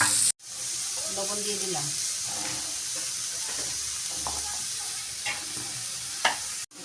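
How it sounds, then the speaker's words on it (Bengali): Kolai greens stir-fry in hot oil with garlic and onion, giving a steady, close sizzle with scraping stirring noises, while someone speaks briefly over it. "কলৌ শাক ভাজির জন্য রসুন আর পেঁয়াজ দিয়ে দিলাম তেলে। এখন কলৌ শাক দিয়ে দিব"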